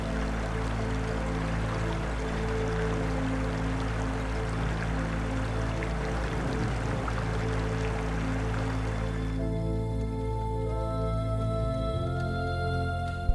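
A mountain stream on a trek toward Nanga Parbat's Beyal Camp, a steady, close rushing of water that runs unbroken under a constant low hum, thinning somewhat in the last few seconds.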